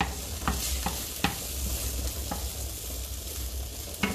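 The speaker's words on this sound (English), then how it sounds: "Let's mix the pasta." Pasta being tossed with broccoli cream in a hot pan as guanciale roasts, heard as a continuous close sizzle with several sharp spoon scrapes and knocks against the pan.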